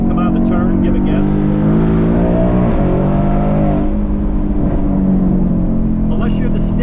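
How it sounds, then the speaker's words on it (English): A 2022 Mustang GT Fastback with a manual gearbox revs hard through quick upshifts, its V8 exhaust roaring loudly in rising and falling harmonic sweeps with brief breaks between gears, while a voice talks over it. "You get some banging and crackling and popping from the exhaust."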